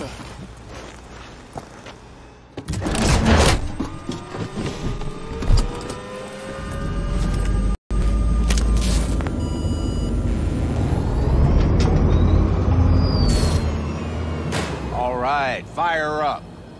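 In Cyberpunk 2077, a vehicle door thuds shut and the engine starts and revs up with a rising drone, loud and close, mixed with ambient game noise and what may be muffled voices.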